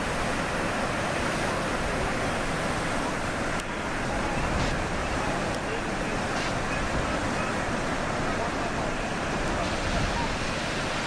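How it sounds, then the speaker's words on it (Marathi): Niagara Falls seen from the American side, a massive river of water pouring over the falls, gives a steady, dense roar that fills the whole stretch without let-up. "प्रचंड पाणी वाहत असतं इथं."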